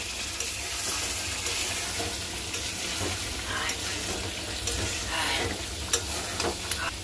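Chicken braising in a pan as it is stirred, a steady close sizzle and fry with scraping stir strokes running throughout, with no one speaking.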